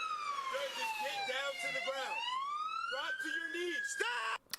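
A police car siren left running wails in rising and falling sweeps, sustained and moderately distant, with voices faintly present underneath.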